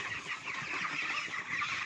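Broiler chickens in their fourth week on a Kenyan farm cluck steadily as a flock, a dense continuous murmur of many birds close by with no talking.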